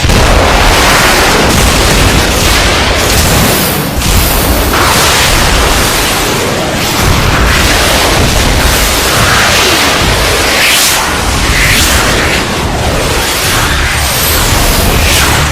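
Missiles launch and explode during an animated film battle: a loud, dense roar of blasts and bursts runs continuously, with overlapping booms and whooshes and no clear pause.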